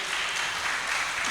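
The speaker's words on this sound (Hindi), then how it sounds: "ताली बजा के ईश्वर की स्तुति कीजिए।" A church congregation clapping hands in praise at a live worship service, a dense, steady wash of many people applauding together, loud and continuous throughout.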